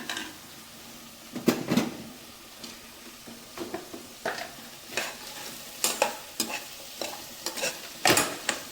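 A salted greens curry in a pot for keerai kuzhambu is stirred, and a spoon scrapes and knocks against the pot in irregular strokes over a faint simmer. The sound is close and moderately quiet, with no talking.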